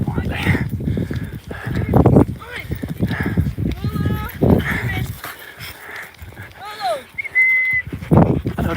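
Excitable dogs out on a walk in the Scottish hills give several short whines and whimpers, rising and falling, while people talk nearby over rustling movement outdoors.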